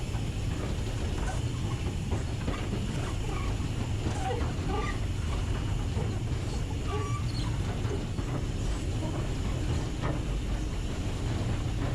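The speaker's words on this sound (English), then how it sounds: "Steve opens up the regulator once more to get us up to line speed" A steam locomotive, 44871, runs on the Swanage Railway with the regulator open, a steady rumbling chug and mechanical clatter from the footplate continuing throughout at even loudness.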